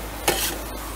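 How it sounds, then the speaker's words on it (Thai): A brief, quick scrape of noodles being stir-fried fast in a hot wok over a loud sizzle, close by. "ขออนุญาตใช้ความเร็วในการผัดนิดนึงนะคะไม่งั้นเดี๋ยวเส้นมันจะติดกระทะนะคะ"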